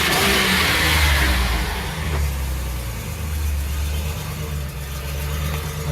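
Swapped engine in a 2008 Chevrolet Express, running with a bad spark plug wire, revving briefly then settling into a steady, slightly uneven nearby idle, no talk.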